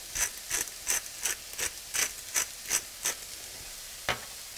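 A pepper mill grinds white pepper in about ten close, evenly spaced gritty cranks, a short pause before one last twist.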